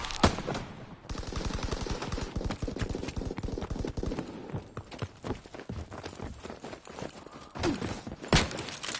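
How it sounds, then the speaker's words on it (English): Gunfire in a PS4 shooter game crackles in rapid bursts, including a long fast run of automatic shots, with sharper single blasts near the start and end and in-game voices shouting in between. "Enemy fire! Movement in the barn! Sniper!"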